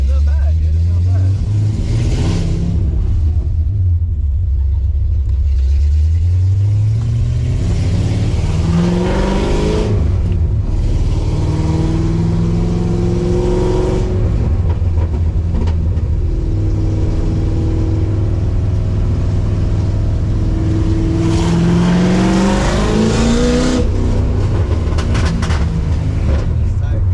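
Foxbody Mustang with rear Team Z springs driving on a paved road, its engine rumbling steadily with rising and falling revs throughout, while people talk in the car over the drone.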